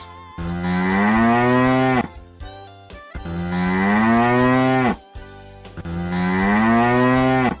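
A cow moos three times, long drawn-out lowing calls separated by short pauses, loud and close with nothing else around.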